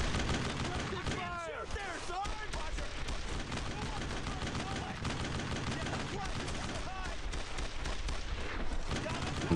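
Gunfire rattles through a World War II battle in the game Brothers in Arms: Road to Hill 30, with dense, continuous bursts of shots under shouted orders and game voices.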